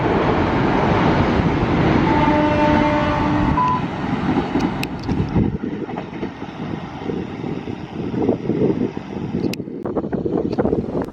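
The Matarmaja passenger train, an Indonesian service hauling economy cars, rumbles past close by with a loud, continuous roar and wind buffeting, easing into rattling wheel noise toward the end.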